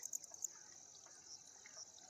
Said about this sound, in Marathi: आता सध्या तर पाणी चालू आहे